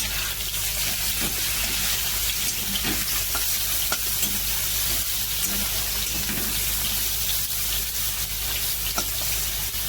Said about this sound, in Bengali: এদিকে তো মাছটা বসিয়ে দিলাম ভাজার জন্য আর এই সাইডে দেখো আমি উচ্ছে ভাজাটা আগেই বসিয়ে দিয়েছি